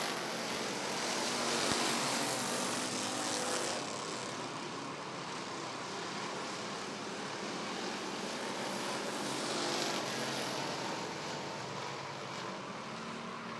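Race cars at Rockford Speedway's Midnight Ride of Paul Revere race for the 4th of July roar past in a dense, continuous engine drone, swelling as they pass, heard from the stands.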